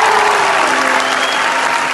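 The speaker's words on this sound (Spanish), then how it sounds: "Fuerte aplauso para allá, por favor." Loud, dense applause from a concert audience at a show in New Jersey, steady and sustained across the whole stretch with crowd noise mixed in.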